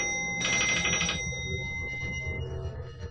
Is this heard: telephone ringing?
yes